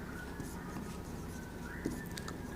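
Chalk or marker scratches and taps lightly across a board during a maths lesson in a classroom, soft and intermittent with small squeaks, faint and close, with no voices.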